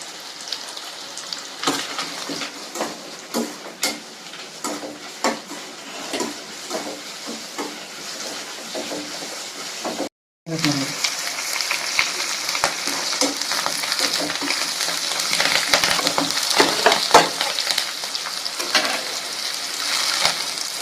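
Small chillies fry in a pan with a steady crackling sizzle and scattered pops, broken by a short silence midway, after which the sizzle returns louder and denser, close by with no talking.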